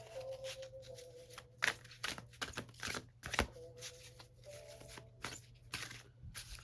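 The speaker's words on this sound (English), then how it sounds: "Almost done shuffling." Close, quiet tarot card shuffling: repeated crisp riffles and soft slides of a deck in uneven bursts, without any speech.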